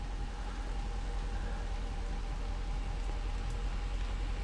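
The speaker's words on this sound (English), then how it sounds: "It's like when it's pouring rain here at Silverwood." Heavy rain pours down at Silverwood Lake campground in California, a dense, constant roar of drops drumming on surfaces with no letup, close and loud throughout.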